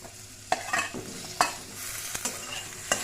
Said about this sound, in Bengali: বেগুনগুলো একটু সামান্য ভাজবো